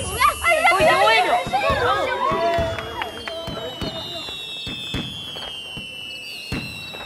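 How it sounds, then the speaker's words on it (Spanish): Fireworks bursting in a rapid series of sharp cracks and pops, with people exclaiming and chattering excitedly at first, then a sustained high whistle and scattered bangs continuing steadily after the voices fade. "¡Miren, fuegos artificiales!"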